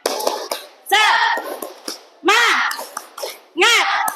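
A class of children in an Indonesian classroom performs a clapping chant, with sharp rhythmic hand claps mixed with loud group chanting voices in several bursts.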